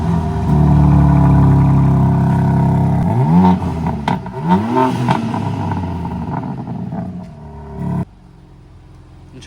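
A 2023 BMW M3 Competition fitted with loud aftermarket downpipes revs hard and close, with two rising swoops of engine note, crackles, and a sharp cutoff to a lower idle near the end.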